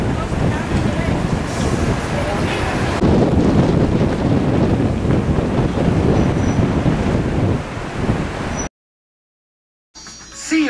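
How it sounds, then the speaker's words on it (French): Strong wind buffets the microphone in Chicago in a loud, steady roar that builds partway through, then cuts out briefly before returning. "il y a le vent qui se lève"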